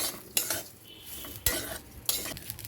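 A spoon stirs lentils and vegetables in a single cooking pot over heat, making three sharp scraping strokes against the metal over a soft sizzle, close up with no talk.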